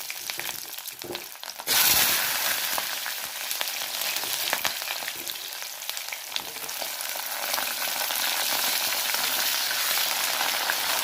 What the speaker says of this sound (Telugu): ఈ నూనె మరిగింది. ఇప్పుడు ఈ ములంకాళ్ళు వేయించుకోవాలి.